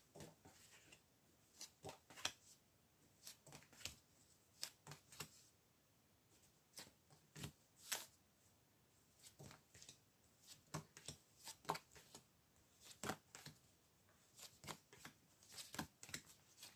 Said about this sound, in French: on va tirer des cartes sur le oui